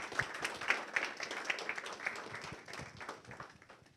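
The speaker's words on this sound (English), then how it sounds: "please join me to give them a round of applause" Scattered applause from an audience at a faculty celebration honouring associate professors, faint and distant, a loose patter of clapping that gradually thins out.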